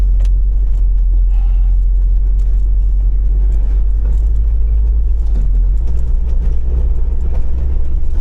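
Low, heavy rumble from a van engine driving in low range up a snowy mountain during a blizzard, loud and steady with no talking.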